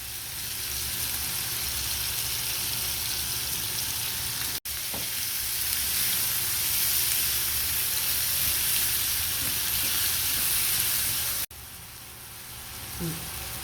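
Onions fry in a pan with sausage pieces, giving a loud, continuous close-up sizzle that barely changes throughout, broken only by two brief cuts.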